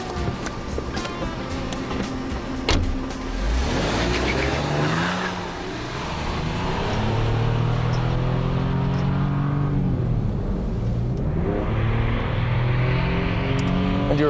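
A sporty car fitted with an AVL transmission drives on a test track, its engine revving up and down through gear changes with rising and falling pitch, loud and close, with faint tire noise.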